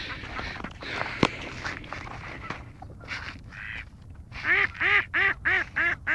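A duck quacking in a rapid run of five or six loud, close quacks after a stretch of scuffling footsteps and sharp knocks.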